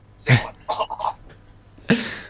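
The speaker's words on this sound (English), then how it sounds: "Oh, keep coughing." A few harsh coughs and throat-clearing bursts come in short clusters, separated by brief quiet gaps, close and fairly loud.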